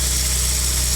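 A Lexus IS300 engine runs loud and close, giving a steady, dense mechanical roar for the whole short moment.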